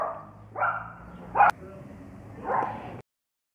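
Several short barks and yips from a dog, fairly close, in a spaced run, heard while delivering on a Shineray Jet 50cc scooter in the rain.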